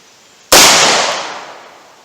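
A single sharp gunshot from a .38 Special +P Buffalo Bore load fired at 2x4 boards outdoors, loud and close, with a sudden crack followed by a long fading echo.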